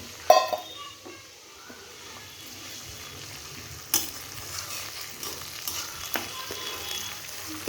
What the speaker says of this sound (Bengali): দেখো মশলাটা ভাজা হয়ে গেছে, আমি একটু জল দিয়ে দিব, একটু বেশি না।